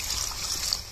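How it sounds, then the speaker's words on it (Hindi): Water poured into a pot of mutton curry with fried spice masala, cooked Bihari village style, gives a steady hissing splash that is fairly loud and close, with no talking. "तो चलिए थोड़ा पानी डाल देते हैं।"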